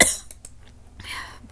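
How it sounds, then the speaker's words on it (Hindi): A single sharp cough bursts out at the start, followed by quieter breathy throat noises and a softer rasp near the end, close to the listener. "पता नहीं क्यों खांसी हो रही है।"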